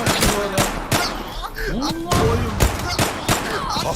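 Rapid gunfire from a Turkish-language shooter video game, sharp repeated shots in bursts and single cracks, loud and close, with short explosive thumps mixed in and game voices chirping faintly between the shots.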